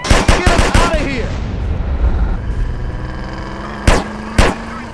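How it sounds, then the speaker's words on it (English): Rapid close gunfire from a drive-by in GTA San Andreas, a quick burst of shots at the start over a car engine, then two more single loud shots near the end. "I'm shooting at the damn blur, CJ!"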